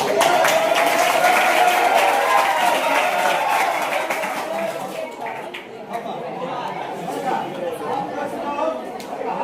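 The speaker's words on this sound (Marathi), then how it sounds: "याच्यासाठी टाळ्या वाजवा" A school audience at a Nasrapur English-medium school claps for a student, a sustained round of applause mixed with crowd chatter that fades somewhat midway and continues more softly.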